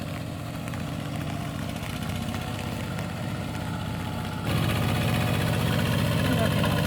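A steady engine idles throughout with a low, even rumble, growing slightly louder partway through; voices may be faintly mixed in.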